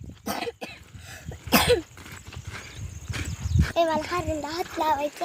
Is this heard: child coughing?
yes